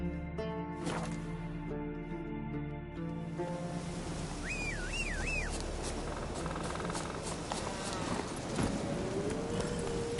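Horse hooves clip-clop steadily during riding in The Witcher 3, a continuous trotting patter under a dense game soundscape with brief whistling, chirping tones.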